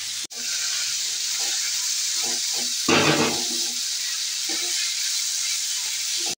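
Rice is tipped into a hot kadai and hisses in a steady sizzle. A brief louder surge of crackling comes in partway through, with faint clinks of stirring.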